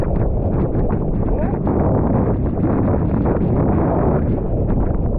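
Strong wind blows across Diani Beach in Kenya, a steady, loud, unbroken roar buffeting the microphone for the whole stretch.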